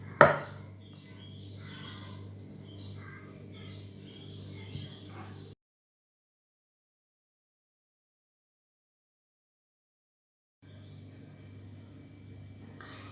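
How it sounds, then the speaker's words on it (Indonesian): Knife chopping a tomato into seven pieces on a board while a chicken and luffa gourd soup is prepared at home, with a sharp first cut, then steady close cutting noise, a gap of silence, and a brief return of the same sound. "Kita potong tomatnya menjadi 1, 2, 3, 4, 5, 6, 7 bagian."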